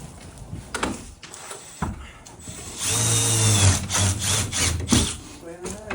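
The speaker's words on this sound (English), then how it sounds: "he'll run the screws in the middle on the outside" A power drill drives screws into a porch window mullion during a direct window installation, whirring in a loud burst of a couple of seconds amid knocks and handling noises.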